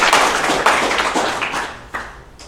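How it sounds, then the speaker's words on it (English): A small tech meetup audience claps for a speaker named Jeremy, a thin scattering of individual claps from a few people that fades out within a couple of seconds. "So everyone give Jeremy a round of applause"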